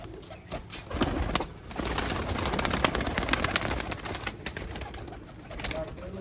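Sialkoti black-faced pigeons coo on a rooftop loft, soft, repeated throaty calls running throughout, with a voice talking faintly alongside.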